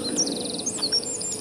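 Small birds chirp and tweet in a forest along the Thattekkad forest road near Kothamangalam, a run of quick high repeated notes and scattered calls, moderately close, with no talking.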